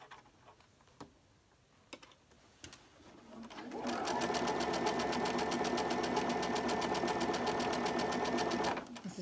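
A sewing machine stitches a quarter-inch seam through quilting fabric, starting after a few faint clicks and then running in a fast, steady mechanical rattle for about five seconds before stopping.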